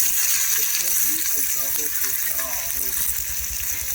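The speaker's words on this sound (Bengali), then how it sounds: "দিয়ে দেবো পেঁয়াজ কুচি।" Chopped onion fries in oil for a home-style Bengali greens dish, giving a loud, constant hissing sizzle from start to finish, with a faint voice murmuring underneath.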